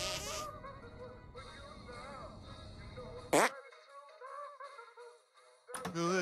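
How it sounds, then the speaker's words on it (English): A cartoonish fart blast in South Park: The Stick of Truth, a raspy buzzing burst set among game music and effects, fairly faint in a busy gameplay mix. "Make your fart detonate behind me."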